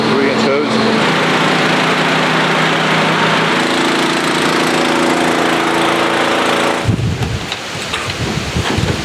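Engine of a 3-inch pump running on a farm, a loud steady drone with a constant low hum that cuts off sharply near the end, while someone talks over it.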